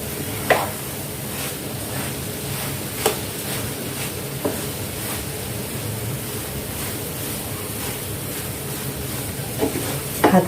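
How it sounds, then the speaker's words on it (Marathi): A spoon stirs mango semolina halwa with sugar, cardamom and dry fruits in a pan: soft continuous scraping and gentle sizzle, with a few sharp taps of the utensil against the pan. "आता चांगला अगदी हळूवार आपण मिक्स करून घ्यायचा आहे"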